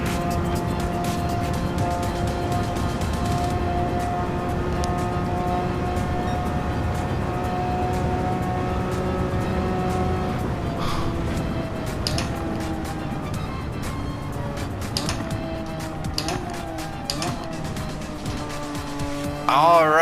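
Engine of a Porsche 996 race car in a driving game drones steadily around the Nordschleife, with gear changes, rising and falling revs and tire squeal toward the end, loud and continuous throughout.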